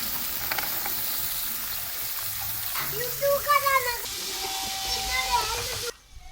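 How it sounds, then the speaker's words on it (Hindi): Potatoes, peas and radish pods hiss and sizzle as they fry in hot tempering oil, while someone talks over the cooking noise. "तड़का मेरा बन चुका है और अब मैं डालने लगी हूँ सब्ज़ी, आलू मटर मोंगरे"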